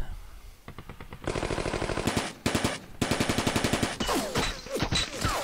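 Gunfire in the Divided Ground Vietnam War mod, with rapid, loud bursts of machine-gun fire in rhythmic strings, broken by short pauses and sharper single shots near the end.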